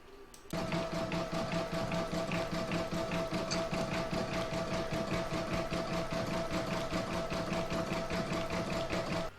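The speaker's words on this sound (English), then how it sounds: "next we're going to stitch round number 6, and that's going to do all a decorative satin stitch around the border" An embroidery machine stitches a decorative satin-stitch border on an in-the-hoop towel topper, starting abruptly and then running as a fast, even mechanical chatter with a steady hum, close and continuous.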